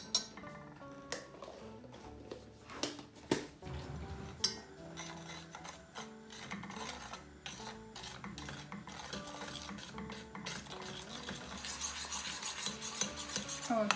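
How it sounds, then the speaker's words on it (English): Brownie batter with cocoa powder being stirred in a bowl: repeated scraping and knocking of a spoon against the bowl, irregular taps and clinks close by, growing busier and more continuous toward the end. "Okay, we mixed it."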